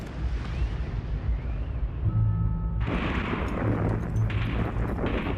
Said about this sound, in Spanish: finalmente lo asesinaron de un solo disparo